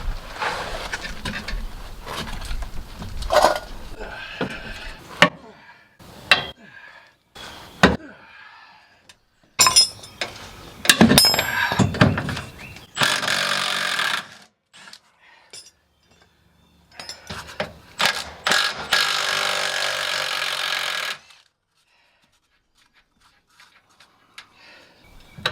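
A wrench breaking loose 11/16 nuts on camper trailer suspension during a repair, with sharp metallic clinks and scraping bursts, intermittent ratcheting and pauses, close by and fairly loud.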